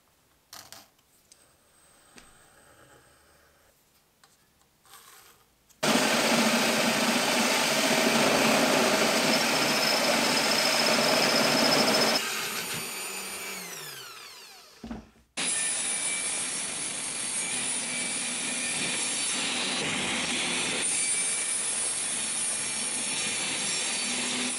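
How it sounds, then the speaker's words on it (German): A power saw cuts through wood to open a gate in a homemade wooden knight's castle, a loud steady buzzing rasp that runs in two long stretches, winding down briefly between them after a quiet start. "Ich war jetzt fleißig, habe ein bisschen gesägt."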